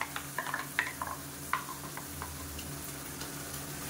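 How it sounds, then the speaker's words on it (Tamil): Onion and coconut paste sautés in oil over a medium flame, giving a soft, low sizzle with several light scraping and clicking stirs near the start, fairly quiet overall. "இதை நல்லா வதக்கி விட்டுக்கலாம். எண்ணெயில் மீடியமான ஃப்ளேமில் வதங்கட்டும்."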